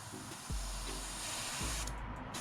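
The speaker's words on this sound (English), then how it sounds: "I am going to spray out" An airbrush sprays brown paint onto a small bluegill-style fishing lure, giving two steady hissing bursts, each about a second long, close up with no talk.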